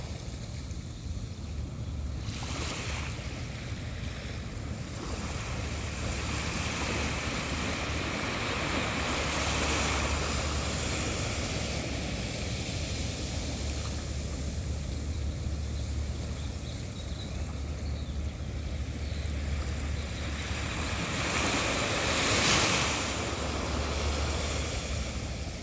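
Ocean waves roll and wash in a steady, full surf roar with swells that build and fade, mixed with wind rumble against the microphone and no voices.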